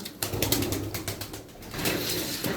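Black-tailed Bango pigeons in a loft coo and rustle, with brief wing flaps and sharp clattering bursts close by.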